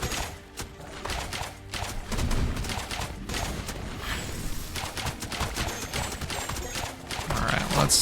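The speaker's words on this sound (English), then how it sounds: "It seems like it takes 2 cannon shots to take out one of these guys." Cannon fire in the castle-defense game Siegecaster, heard as a dense, continuous barrage of overlapping booming shots and impacts with no clear gaps, loud throughout.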